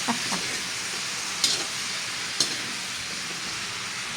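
Vegetables sizzling in a hot pan as they are stir-fried, a steady hiss with a few faint scrapes and taps of the utensil.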